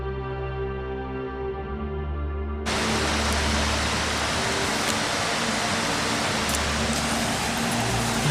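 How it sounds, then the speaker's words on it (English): The Salui waterfall in Laos roars as a dense, steady rushing wash that suddenly cuts in after a low engine-like hum, then continues loud and unbroken. "I'm walking up to the Salui waterfall"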